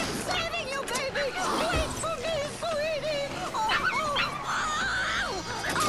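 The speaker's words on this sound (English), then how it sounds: "That was a zombie dog." A zombie dog in the video game Dead Rising whimpers, yips and whines in rising, wavering cries, close and fairly loud, mixed with talking voices throughout.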